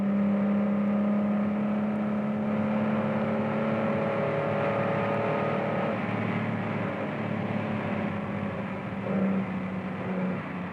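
A 1965 Austin Healey racing car on a practice lap for the Targa Florio in Sicily, driven by Timo Makinen, its engine droning steadily with a sustained whine and shifting pitch throughout, no one speaking.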